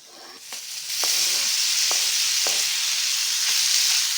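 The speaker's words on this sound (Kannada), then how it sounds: "ಅದು ಕೂಡ ಹಾಕಿ ಫ್ರೈ ಮಾಡ್ಕೊಳ್ಳೋಣ ಮೀಡಿಯಮ್ ಫ್ಲೇಮಲ್ಲಿ" Dhaba-style mutton dry fry cooks over a medium flame with chopped tomato just added. A loud, steady sizzle fills the whole clip, broken by a few soft clicks from the stirring spoon.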